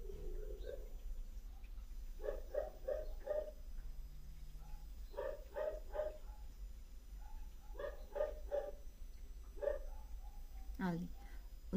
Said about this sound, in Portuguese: E os cachorros estão latindo por causa dele.